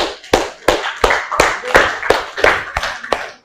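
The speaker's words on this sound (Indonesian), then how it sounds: "saya hanya bisa memberikan tepuk tangan untuk kalian semua" A classroom audience applauds students with sharp, distinct hand claps, about ten crisp slaps in a steady rhythm, close and loud.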